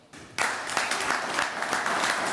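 At an American Legion district meeting, a room of people breaks into steady applause for two sergeants major, the clapping starting abruptly and continuing evenly to the end.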